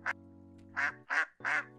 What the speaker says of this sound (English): It's a little goose.